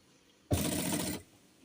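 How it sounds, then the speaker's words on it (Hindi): A tailor's sewing machine runs silk thread through buckram for a shirt cuff, a single short burst of stitching under a second long, clear and alone in a quiet room. "अब मैं बुकरम पे सिलाई लगाता हूँ"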